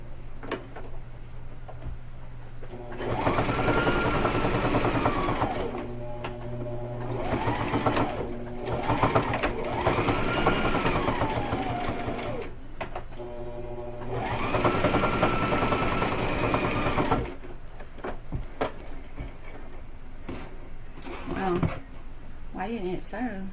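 A sewing machine stitches a fabric casserole carrier in several bursts of rapid, even whirring, with short pauses between runs, close up and fairly loud.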